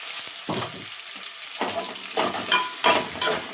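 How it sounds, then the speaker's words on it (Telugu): Chana dal and urad dal fry in a pan for upma, crackling and sizzling close up in repeated bursts as a spoon stirs them around, fairly loud. "ఇప్పుడు శనగపప్పు, మినపప్పు ఒక స్పూన్ వేసిన"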